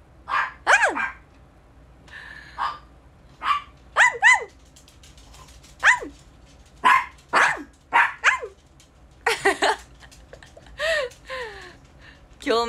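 A dog barks and yips in short bursts, some sharp and some whining, spread irregularly across several seconds at close range, with faint background hum between outbursts.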